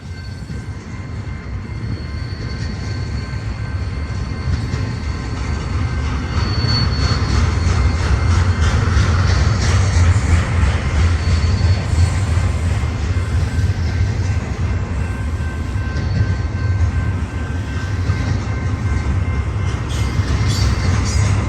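A BNSF freight train, likely an intermodal Z train, rumbles past eastbound on main track 1 at Lower Swarthout Crossing in California's Cajon Pass, with a steady heavy low roar of engines and rolling wagons swelling and holding close.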